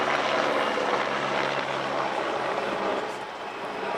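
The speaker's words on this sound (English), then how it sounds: "with a 90-degree turn away by the number 2 helicopter" A Czech air force Sokol helicopter flies a display at an air show, its rotor and turbine roar broad and steady at moderate distance, fading slightly toward the end, with a faint voice beneath.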